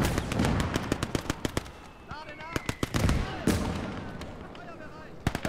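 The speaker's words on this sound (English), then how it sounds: "That mortar is just tearing me apart" Mortar and small-arms fire in the WWII strategy game Gates of Hell, a rapid string of sharp detonations and cracks in the first half, then scattered heavier blasts with faint voices mixed in.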